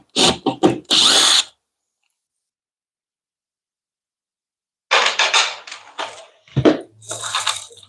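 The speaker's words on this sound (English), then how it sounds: "now I'm sanding my pieces" Power sander working on wooden pieces in a woodworking shop, loud short bursts of motor noise, a quick stuttering cluster, a long silent gap, then several more bursts of varying length.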